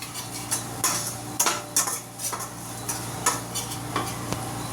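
A metal spoon stirs and scrapes a spice mix of red chilli powder, onion-garlic masala and coriander powder in a pan while cooking taro leaves, with irregular clinking taps over a faint background sizzle.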